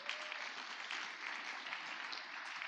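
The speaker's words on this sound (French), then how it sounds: "Acclamons la parole." Congregation applauding together in a church during a sermon, steady dense clapping filling the space without pause, no talk over it.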